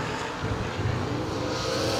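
Drag racing cars, a Pontiac Firebird and a Ford Hemi-powered Probe, launching at a strip; a loud, dense, continuous engine roar that stays steady and close throughout.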